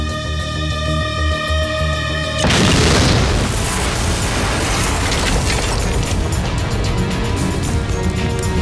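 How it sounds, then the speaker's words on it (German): An explosion goes off near a bridge at an emergency scene, a sudden loud boom breaking in after a tense musical passage and rolling on as a dense, sustained roar of rumble and debris. "Explosion nahe Einsatzort."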